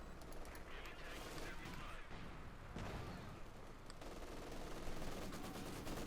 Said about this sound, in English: Another series of strafing attacks here from Whiteeat on Ihitto